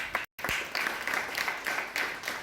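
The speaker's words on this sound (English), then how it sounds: "So I think he deserves a round of applause." An audience applauds a science and technology official at a school children's science congress event: steady, dense clapping from many hands at moderate distance, continuous throughout apart from a brief dropout.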